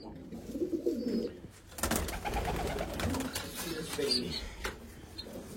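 Racing pigeons cooing softly in a loft, low throaty coos repeating at moderate distance over a faint background, with a brief rustle and a few chirps.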